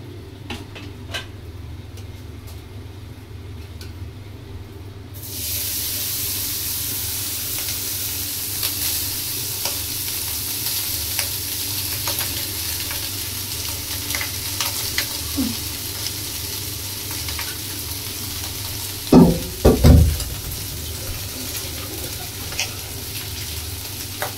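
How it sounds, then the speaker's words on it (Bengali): Cooked rice frying and being stirred in a pan: a quiet start gives way after about five seconds to a steady, close sizzling hiss with faint crackles, and a couple of loud utensil knocks against the pan near the end. "এবার ভাতটা ভেজে নিই, তারপরে মিশিয়ে নেব।"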